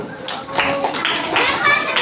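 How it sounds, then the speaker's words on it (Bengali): Young children in a third-grade classroom clap for a group during group work, a short burst of scattered applause mixed with children's excited voices. "ওদের জন্য হাততালি"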